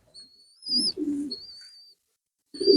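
Wild wood pigeons coo nearby in a few short, low, soft phrases separated by quiet gaps, with a thin high whistling tone above them and no speech.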